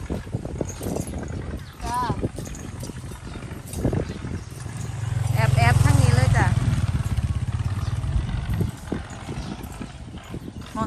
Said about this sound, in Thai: ได้ยินเสียงรถไถเหรอ